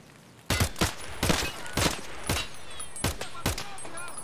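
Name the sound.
gunfire in the video game Escape from Tarkov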